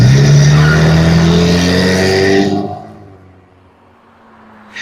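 A BMW driven fast roars loudly up close for a couple of seconds, then fades quickly into the distance, leaving near silence before a brief noise at the very end.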